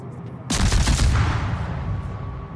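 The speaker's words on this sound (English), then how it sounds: "So I'm firing into Italian smoke with HE, hoping to decap him." A destroyer in a naval video game fires a salvo of high-explosive shells, a sudden loud crack of gunfire followed by a rolling rumble that slowly fades.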